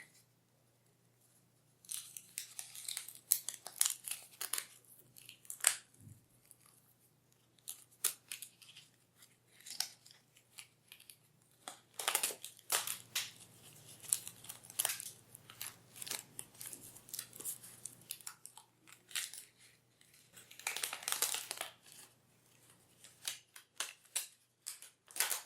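A folded, cut paper snowflake is opened out by hand, giving soft crinkling and rustling in irregular bursts with short pauses, close and fairly quiet.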